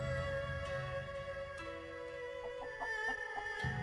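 A chicken in the video game Tales of Xillia clucks in a few short, quick bursts in the second half, over steady game background tones.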